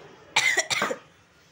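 Two quick, sharp coughs close to the microphone, followed by quiet.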